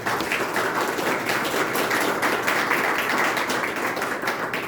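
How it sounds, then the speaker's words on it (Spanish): Audience applause for commentators at a Barcelona book presentation, a steady, dense clapping from a seated crowd, moderately loud and continuous without talk. "Un fuerte aplauso para los comentaristas"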